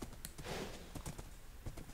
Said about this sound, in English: Move, horse.